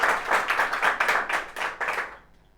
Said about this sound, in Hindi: तालियां हो जाए डॉक्टर साहब के लिए